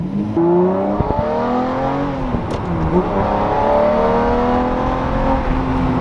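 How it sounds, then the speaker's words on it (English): A Lamborghini Murcielago engine revs loud and close, its deep tone climbing and settling across several seconds with a brief sharp blip partway through, with no talking. "this is a Lamborghini Murcielago"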